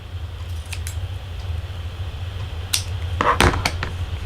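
Ribbon scissors snip the ends of a decorative ribbon on a craft bow, giving a few short, close, crisp cuts and rustles near the end over a steady low room hum.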